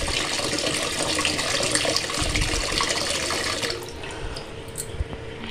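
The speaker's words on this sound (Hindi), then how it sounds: "फिलहाल पीने का पानी भर रहा है और मैंने पीने का एक जग भर लिया है" Tap water running steadily into a jug being filled with drinking water in a home kitchen, a close, continuous splashing rush that thins and drops in level near the end.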